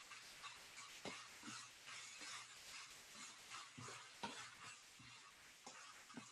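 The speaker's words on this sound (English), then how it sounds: "I'm sure y'all can hear the sizzle here." Noodles sizzle while being stir-fried in a pan, a soft continuous frying hiss with scattered clinks and stirring knocks, faint and with no talking.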